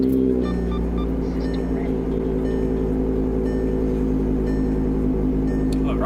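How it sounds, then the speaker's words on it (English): A car engine, just fitted with a lightweight pulley, running steadily with a low, constant rumble and drone, close and loud throughout with no voices over it. "I'm about to start the car up for the first time."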